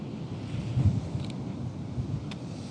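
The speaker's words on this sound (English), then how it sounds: "It's starting to get really windy now." Steady low roar of strong wind at a beach buffeting the microphone, with a faint higher tick or two above the rumble and no voices.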